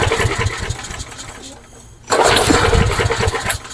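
A hot Craftsman lawn mower engine cranks and restarts, a low sputtering rattle that briefly drops away before roaring back up loud and close; voices are heard alongside it.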